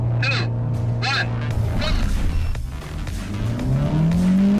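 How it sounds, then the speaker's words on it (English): Loud, close engine roar and rising revs as a Honda Civic Type-R, Mercedes-AMG A35 and Mini Clubman JCW launch side by side down an airport runway, with brief squealing chirps early on. "The Type-R had a perfect launch, jumping ahead of the A35 and Clubman at go."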